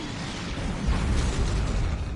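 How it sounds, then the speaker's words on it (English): Heralds in a video game open fire on an open time portal: a dense, continuous barrage of booming blasts and crackling bursts that swells louder midway and stays heavy to the end. "The Heralds are firing on the portal!"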